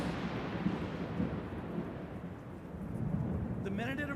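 Thunder rumbles through a storm, a broad, low rolling roar that swells and fades over several seconds with steady rain noise underneath, heard fairly distantly with no one speaking.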